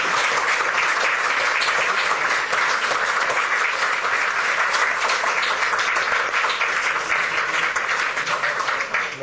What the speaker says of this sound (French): les applaudissements qui ont suivi après l'intervention de Madame la Présidente Mariam Rajavi